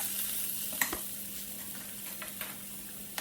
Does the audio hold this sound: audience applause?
no